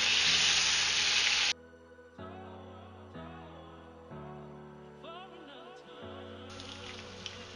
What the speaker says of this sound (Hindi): अभी बस 2 मिनट में चिकन को भूनूंगी इसके अंदर